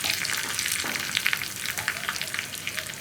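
Dried red chillies and curry leaves fry in hot oil as a tempering for a Kerala-style tomato curry, giving a steady, close, crackling sizzle throughout with no talking.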